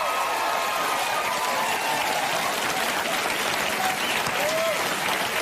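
Loud, sustained applause from a TV talk show studio audience filling the whole clip, a dense wash of many hands clapping at once with a few faint cheers.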